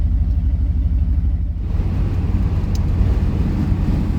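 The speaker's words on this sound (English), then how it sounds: "Now we're gonna go take it for a drive, and we'll see what we get while we're cruising with it." A 1981 Daytona 500 pace car with a GM CCC computer system cruises along the road on a test drive. A steady low engine rumble mixes with road and wind noise, heard loud and continuous from inside the car.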